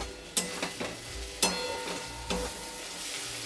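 Ghee spooned into a thick, cooked-down banana flower curry crackles softly while a spoon scrapes the pan in a few sharp clanks, with a low steady sizzle running underneath.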